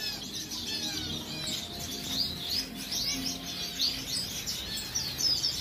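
Finches, including black cheek and Gouldian birds, chirp in breeding cages, with many high, quick tweets overlapping continuously against a low room murmur.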